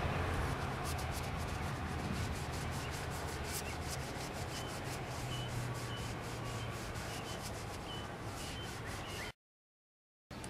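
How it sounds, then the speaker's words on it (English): Rags soaked with lacquer thinner scrub paint off a historical marker's medallion, giving a steady, fast back-and-forth rubbing close by for about nine seconds before abruptly cutting to silence. "you take your lacquer thinner and your rags, and you're going to remove the paint from the medallion and the title area"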